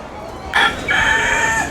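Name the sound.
rooster crowing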